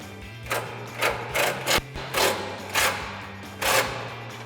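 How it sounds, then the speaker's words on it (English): A ratchet with an 18mm socket tightens a sway bar bolt on a 2014-2020 Ford F-150 during a suspension lift install, giving about seven short bursts of rapid clicking over a steady low hum. "And we'll tighten that down with our 18mm socket."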